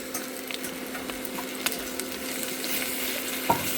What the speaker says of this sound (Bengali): পেঁয়াজটা ভালো করে ভেজে নিতে হচ্ছে। এর মধ্যে আমি রসুন বাটা দিয়ে দেবো।